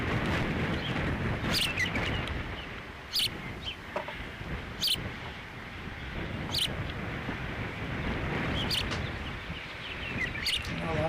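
An osprey gives several sharp, high piercing calls at irregular intervals, fairly clear over a steady background rumble on a ranch, with people talking softly at times.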